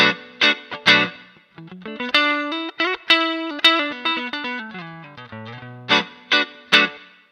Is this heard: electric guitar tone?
yes